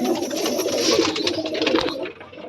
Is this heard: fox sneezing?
no